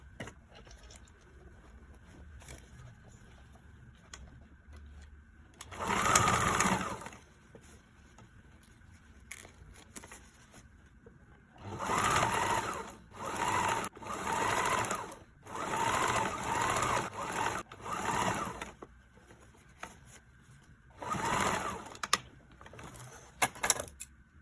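A sewing machine stitches a blazer's sleeve lining to the main fabric in several separate bursts, each a loud mechanical whirring run broken by pauses, with faint background noise in between.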